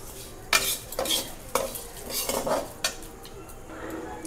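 Vermicelli frying in ghee with bay leaves and cardamom, stirred with a metal spoon: irregular scraping strokes and clinks against the pan over a soft sizzle, close and moderately quiet.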